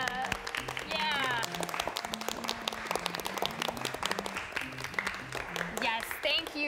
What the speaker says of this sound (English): Join me in a large round of applause for Lawrence Welk and his orchestra.